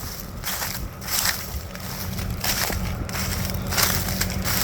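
A tractor-towed harrow crushing and smashing material at the back of the tractor on a farm, a steady loud grinding crunch with bursts of splintering texture running throughout, no voices.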